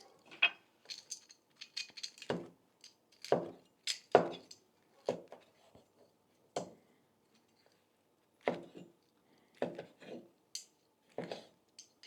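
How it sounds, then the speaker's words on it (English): A knife chops cooked sausages into chunky pieces on a chopping board, with a dozen or so crisp, separate knocks coming in uneven bursts, close and fairly quiet, with no voices. "Just cut them up into nice chunky pieces."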